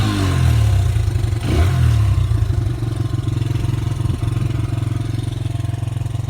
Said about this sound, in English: See, it runs good, idles good.